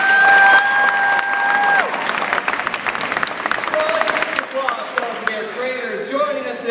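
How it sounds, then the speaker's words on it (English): Loud audience applause and cheering fill the stands at a beluga whale show at Shedd Aquarium, a dense steady roar of clapping that eases slightly, with a presenter's voice and some whistle-like tones over the crowd. "how about a big round of applause for our training team?"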